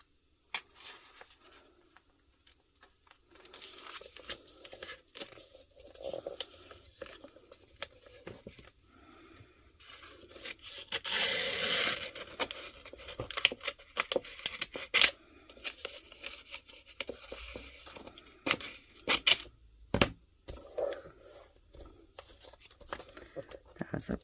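Vinyl is cut to make an anchor for decorating a 20-ounce skinny tumbler, heard as quiet, close, intermittent snips and papery rustling, with a longer run of cutting partway through.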